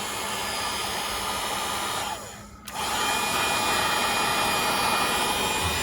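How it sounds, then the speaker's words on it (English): A heat gun blows steadily on the adhesive of a black embossed Chevrolet tailgate emblem on a Chevy Colorado, a constant whooshing fan roar that dips briefly midway before resuming. "we're gonna go ahead and heat this up with a heat gun"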